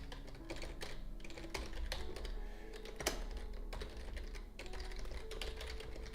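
Fingers type code on a computer keyboard in a steady, close patter of clicking keystrokes with occasional heavier taps, continuous and without speech.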